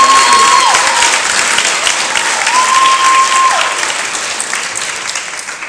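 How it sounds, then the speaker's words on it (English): Loud, dense applause from a banquet crowd cheering a JV football team, a sustained wash of clapping close by that eases slightly toward the end. "I just want to give another round of applause to the JV team."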